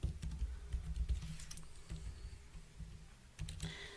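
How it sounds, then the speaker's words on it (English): Rapid clattering keystrokes on a computer keyboard, close and quiet, in uneven bursts with a short pause near the end before a final flurry, no voices. "so that was a lot of typing."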